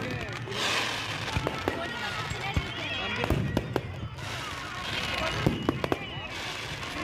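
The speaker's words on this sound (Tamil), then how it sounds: "வெடியை கொளுத்தி விட்டாங்க" Firecrackers set off at the Holy Cross shrine festival in Manapadu, giving scattered sharp bangs and pops over a steady crowd murmur, with people talking nearby.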